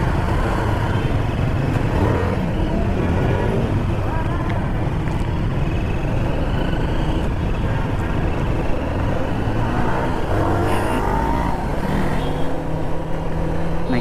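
A TVS Apache RR310 motorcycle on a short local group ride in Madurai gives a continuous loud engine and wind roar, with a voice talking faintly under the noise.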